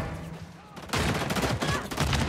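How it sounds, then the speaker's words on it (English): Shotgun blasts in Call of Duty MW3 Zombies, a quiet lull and then a sudden loud burst of rapid, overlapping gunfire that keeps going to the end. "that shotgun shoots fucking Nerf bullets"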